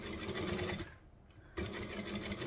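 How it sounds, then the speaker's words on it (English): Domestic sewing machine fitted with a fresh needle stitching steadily with a loud, dense mechanical whir, briefly pausing for about half a second before running again. "now that I've changed my needle over, it is sewing better."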